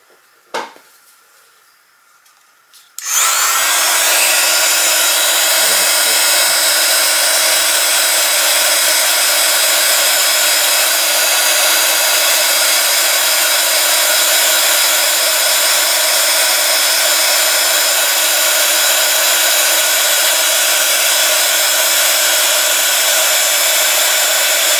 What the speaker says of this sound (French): ça va faire un peu de bruit parce que mon pistolet embossé fait du bruit